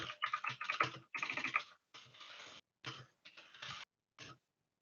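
Keystrokes on a computer keyboard as a command is typed into a terminal, heard close and alone in several quick bursts with short pauses between them.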